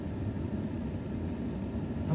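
A pickup truck engine idles with a steady low rumble, heard from inside the cab. It is quiet and continuous, with no revving.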